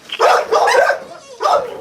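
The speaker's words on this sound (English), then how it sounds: "Because they gonna start barking and making all their noise." Dogs bark in a quick series of close, loud yips and barks, with a short pause before a final bark.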